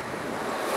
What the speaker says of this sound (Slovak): Sme prišli k moru.